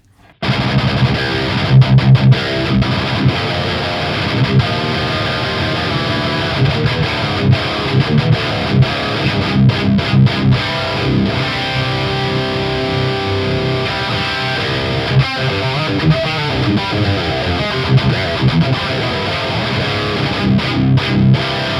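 An electric guitar plays continuously through a Sunless Effects The Winter overdrive pedal, producing thick, driven chords and riffs at a steady, loud level with no talking.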